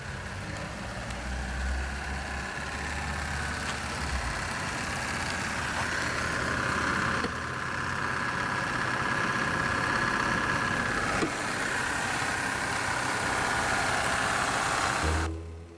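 A 1993 Cadillac Allanté's L37 Northstar 4.6-liter naturally aspirated transverse-mounted V8 idles after start-up, a steady continuous engine hum held at even loudness for about fifteen seconds before cutting off abruptly near the end.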